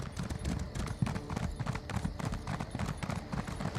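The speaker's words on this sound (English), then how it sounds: "Relatively fast horse." Horse mount galloping in the video game Elder Scrolls Online, with rapid, even clip-clop hoofbeats throughout at a steady close level and a faint voice in the background.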